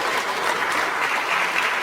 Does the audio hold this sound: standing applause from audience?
yes